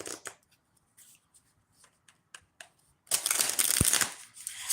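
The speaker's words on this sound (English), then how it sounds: "So let me shuffle" A deck of cards is shuffled in a quick riffling burst after several faint taps and soft handling sounds, close up and without talk.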